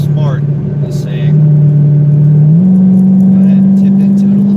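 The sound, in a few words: Mopar car engine accelerating up to speed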